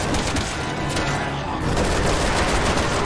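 Dense, rapid gunfire in the zombie shooter Resident Evil 6 keeps up a loud, continuous barrage of overlapping shots and booms for the whole stretch.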